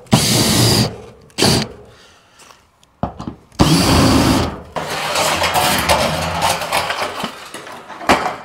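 A cordless power drill unscrewing profiled metal fence sheets whirs loud and close in several short bursts, then runs in a longer sustained stretch with rattling metal.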